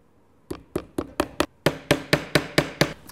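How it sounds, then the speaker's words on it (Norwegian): Hammer blows driving four nails into the back wall of a wooden birdhouse, a dozen sharp close strikes in quick, fairly even rhythm after a short silence, with no talking. "Det første vi gjør er å ta bakveggen og spikre inn 4 spiker på siden."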